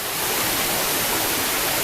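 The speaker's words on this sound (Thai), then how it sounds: "น้ำตกชันตะเถน ชั้นที่สอง" Steady broadband rush of water pouring down the second tier of Chan Ta Then waterfall, a continuous close hiss with no breaks and no voices.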